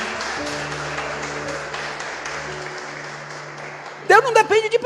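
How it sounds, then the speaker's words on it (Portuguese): A church congregation applauding, a sustained crackle of clapping from many people in a large room, with a low hum underneath and a voice cutting in near the end. "Você pode dar um aplauso para o Senhor?"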